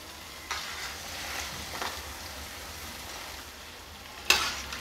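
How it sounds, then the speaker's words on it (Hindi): Namak pare, small flour snacks, fry in hot oil on a gas stove, giving a continuous soft sizzle with occasional stirring clinks and one sharper scrape near the end, no voices. "नमक पारे तेल में ऊपर तैरने लगे, आप गैस को मीडियम से थोड़ा सा तेज कर दें"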